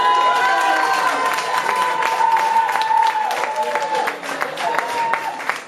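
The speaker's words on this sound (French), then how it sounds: "Des petits applaudissements" Applause and cheering from a party crowd at a fiftieth birthday celebration, steady clapping sustained for several seconds with crowd noise and some voices mixed in.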